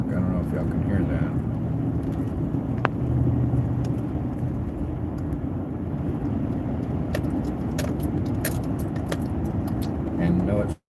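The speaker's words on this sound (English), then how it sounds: "That hum on my truck." A pickup truck hums while driving, a steady low drone under road rumble with faint rattles and clicks in the cab, and a voice speaking over it.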